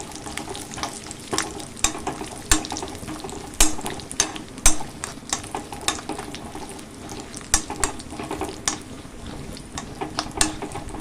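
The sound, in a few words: frying in a pan for parippu pradhaman payasam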